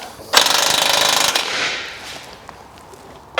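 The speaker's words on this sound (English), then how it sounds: "I've used 19mm bolts so that we can just do it with" Impact wheel gun driving 19 mm bolts on a winch mount of a V10 Volkswagen Touareg, a single loud, rapid hammering burst of about a second that cuts off and leaves a fading mechanical whir.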